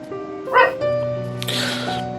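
A dog gives a short yip or bark, followed by softer whimpering, over a steady tonal background hum.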